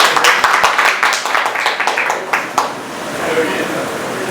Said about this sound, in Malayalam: ഓക്കെ, ചുമ്മാ ഒന്ന് കൈയടിച്ചോ